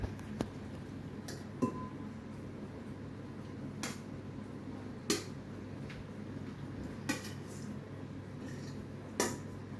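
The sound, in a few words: spooning fermented food into a jar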